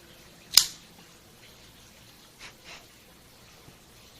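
A single sharp snip of a cutter clipping the cap of a Rocky Patel ALR cigar, close and crisp, followed by a couple of faint handling sounds in a quiet room.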